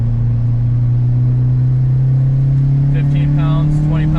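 A Stage 3++ Audi A4 tuned to 450 hp pulls in third gear from about 3,500 rpm, heard as a loud, steady engine drone that climbs slowly in pitch, with a faint voice near the end.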